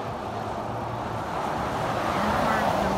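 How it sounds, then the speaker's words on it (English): Traffic passing on a road in Alaska, a continuous wash of tire and engine noise heard from a moving car, swelling slightly as a vehicle goes by, with faint talking underneath. "And cars going by."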